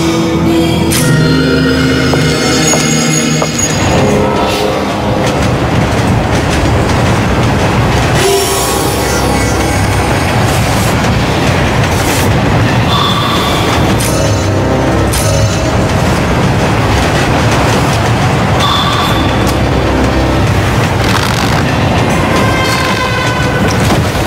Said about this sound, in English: The train's about to leave.